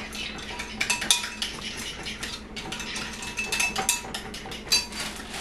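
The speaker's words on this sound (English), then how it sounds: "Mix those up." A spoon clinks and scrapes in a bowl while fruit is stirred into vanilla yogurt with a little sugar, giving irregular close metallic taps and ticks over quiet stirring.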